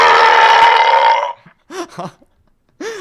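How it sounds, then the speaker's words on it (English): A loud, long belch rumbles out for over a second, followed by short bursts of voices and laughter. "I celebrate every one of my belches because they rock"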